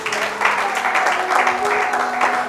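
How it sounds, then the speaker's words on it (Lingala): A congregation applauding together at a church service, a steady continuous wash of clapping with sustained tones and voices mixed in throughout. "Acclamons pour la gloire de notre Dieu."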